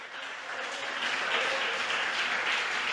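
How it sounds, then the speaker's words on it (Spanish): A church congregation applauds in a steady, dense wash of clapping that swells slightly and holds at moderate loudness for a few seconds, with no voices standing out. "bríndele un fuerte aplauso al Señor."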